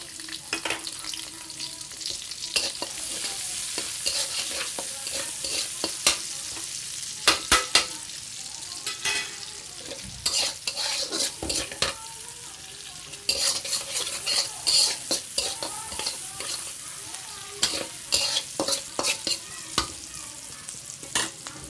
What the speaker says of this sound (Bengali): পেঁয়াজটা ভাজা ভাজা হতে লাগুক।